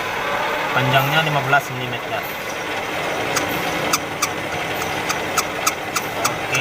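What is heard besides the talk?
conventional lathe machine running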